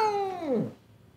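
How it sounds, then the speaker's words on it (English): An upset, emotional cat at a vet clinic lets out a single drawn-out meow that bends downward in pitch and fades, close and clear, with no talking over it. "She is an amazing looking cat"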